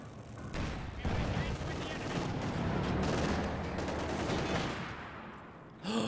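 Raketenwerfer rocket artillery fires in a World War II strategy game, a dense rolling barrage of rapid blasts building into a sustained roar, loud and continuous before cutting off near the end, with no voices heard.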